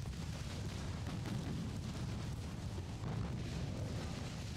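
Naval gunfire and shell explosions in Ultimate Admiral: Dreadnoughts as the battleships Powerful and Seidlitz trade broadsides. Dense, continuous low rumbling booms blend into a steady roar of distant fire with no break and no voices.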